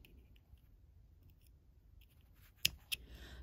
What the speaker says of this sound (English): And then I'm ready to trim off my thread.